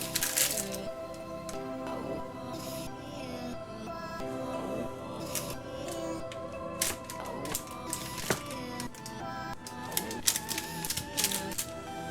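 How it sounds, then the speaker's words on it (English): Knife cutting homemade Romanian chocolate into bars, heard as a run of close, sharp cracking and clicking snaps scattered across a steady background hum. "Now we can cut it into bars."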